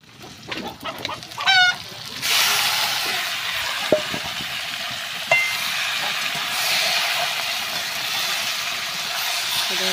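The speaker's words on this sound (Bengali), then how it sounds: "দেখো চিকেনটাকে দিয়ে দিলাম, এবার ভালোভাবে নাড়াতে থাকি।" Chicken pieces sizzle loudly in a pan as they are stirred, a steady frying hiss with occasional scrapes and clacks, after a short opening of squawking, bird-like sounds.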